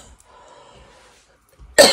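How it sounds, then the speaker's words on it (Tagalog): A single sharp, loud cough bursts out at the very end after a near-silent pause with faint breathing. "Saglit po inuubo lang ako."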